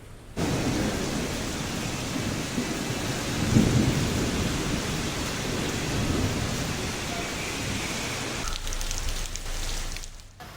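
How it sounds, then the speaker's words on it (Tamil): Thunderstorm with moderate rain and lightning, after a hot summer spell, in Theni district, Tamil Nadu: steady broadband rain hiss with a deep rolling thunder rumble swelling near the middle, loud and continuous, no voices. "சுமார் ஒரு மணி நேரம் இடி மின்னலுடன் கூடிய மிதமான மழை பெய்தது"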